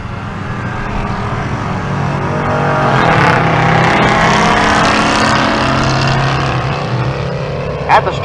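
A GTX drag car at Race Week in Pueblo, Colorado, roars down the strip on its pass, a loud sustained engine drone rising and holding before tapering off as it runs away.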